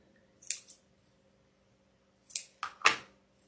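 Scissors trimming ribbon bows for a farmhouse wreath: a couple of crisp snips, a pause, then three more quick close snips in a quiet room.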